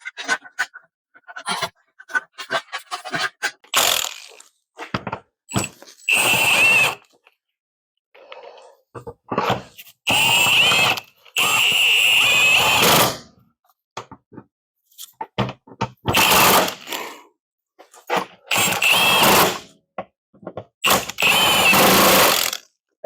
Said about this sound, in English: I don't suggest anyone put a bolt in with an impact gun